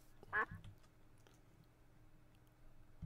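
A single short duck quack sounds early in TerraFirmaCraft, a Minecraft game, then a faint background hum and scattered soft keyboard clicks follow.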